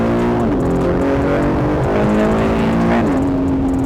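Aston Martin DB12 turbocharged engine pulling hard under acceleration, a loud steady drone that climbs in pitch and drops briefly at gear changes, close and continuous with no talk.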